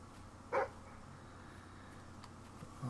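A single short dog bark in the video game Fable 3, one brief yip standing out over quiet background, with a faint second sound at the very end.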